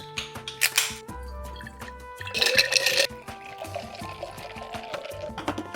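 Cold brew coffee is poured into a to-go cup with irregular splashing, dripping and gurgling bursts, a louder stretch of pouring near the middle and softer trickles afterward; no one speaks.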